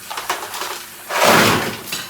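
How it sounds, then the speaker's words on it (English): Ice is dumped into a kitchen sink for a home-brewing ice bath, with light clinks and rattles early on, then a louder, dense clattering rush midway. "put my ice directly into the sink."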